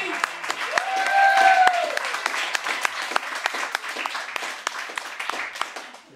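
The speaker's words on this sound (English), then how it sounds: "How about a round of applause for the smoothest cat in the house?" Small club audience applauding at a New York spoken-word and music showcase, scattered distinct claps thinning out over several seconds, with a sustained tone and a brief voice early on.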